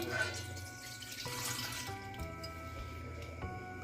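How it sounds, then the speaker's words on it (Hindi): Cold milk is poured from a glass into the bowl of an electric chopper in a kitchen, a steady close splashing trickle with bright tonal ringing, running for about four seconds with no talking. "इसमें मैं 2 गिलास दूध डाल रही हूँ।"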